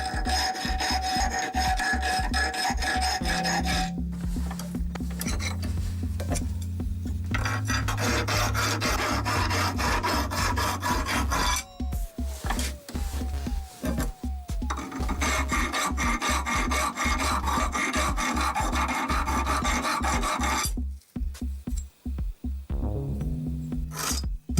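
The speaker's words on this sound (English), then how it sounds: "We clamp the workpiece in a vise and process it from the burrs." A hand file scrapes burrs off a workpiece clamped in a vise, producing loud, steady, close rasping strokes that repeat almost without pause, with a few brief breaks between passes.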